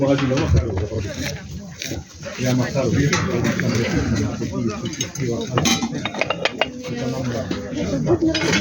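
Metal pots and kitchenware clank and clink steadily at a flea market stall in Kharkiv, with busy rattling and scraping throughout and people talking nearby over the clatter.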